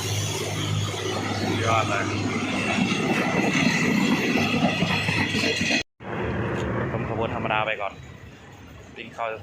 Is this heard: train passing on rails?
yes